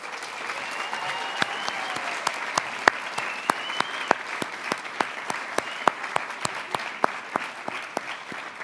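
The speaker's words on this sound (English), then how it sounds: "I'd like us all to give them a round of applause for Eamon Featherston and Angie Solomon." Applause from an audience at a National Archives cocktail history event, a moderate wash of many hands with a few louder individual claps standing out close by.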